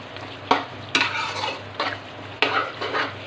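A spoon stirs mutton makhni karahi in a pan after a spoonful of kasuri methi goes in, with repeated scraping strokes and a gentle sizzle underneath, close and fairly loud with no voices.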